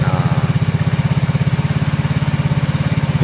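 A Yamaha Mio J scooter engine, freshly rebuilt with a new piston, connecting rod and cylinder block, idles close by in a steady, even putter that runs alone for the whole stretch.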